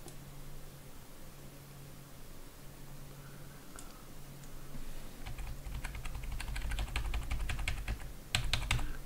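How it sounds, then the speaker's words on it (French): Computer keyboard arrow keys are pressed while editing in Photoshop, first a few faint taps and then a quick run of sharp, close clicks over a low background hum. "j'utilise les flèches du clavier pour leur diminuer"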